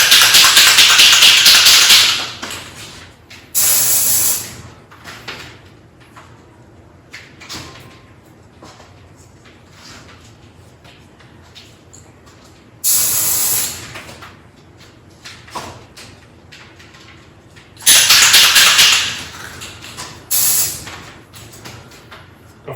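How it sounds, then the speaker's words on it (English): Kitchen countertops sprayed with coating during a DIY resurfacing, several loud hissing bursts of two to three seconds each, separated by quieter pauses with faint handling noises. "now we'll spray our tops."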